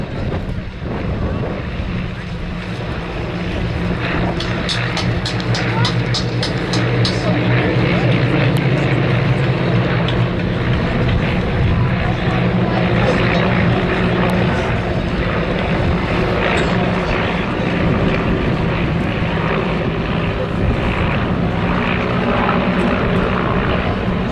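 Display aircraft flying a chipped diamond formation at the Little Gransden Airshow, a loud sustained propeller engine drone passing by in windy conditions, with wind buffeting the microphone and faint voices.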